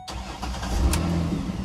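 A Ford Explorer with a rough, shaking idle cranks and fires up, settling into a low, steady rumbling idle close by, with no talk.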